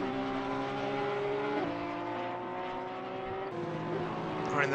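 A Porsche GT race car at Watkins Glen in Assetto Corsa Competizione: a steady, loud, high-revving engine drone with shifting harmonics, briefly dipping as it changes gear, with no voices over it.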